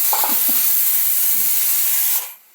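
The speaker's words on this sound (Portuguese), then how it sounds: "minha panela de pressão." A pressure cooker hisses with a loud, steady jet of escaping steam, with faint low knocks beneath it, before the hiss drops away abruptly near the end.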